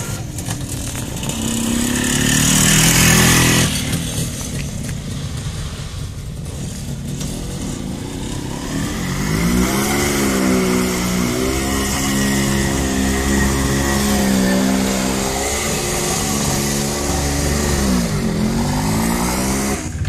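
An MZ ES 250/2 Trophy motorcycle with sidecar, an East German rig, rides along with its engine droning loud and near, rising and falling in pitch as it revs and shifts.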